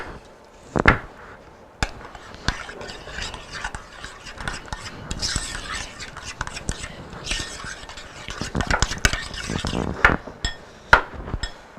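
Ingredients are mixed in a home kitchen, with irregular close scrapes, clinks and knocks of a utensil against a bowl, some louder strikes among softer stirring, and faint voices in the background.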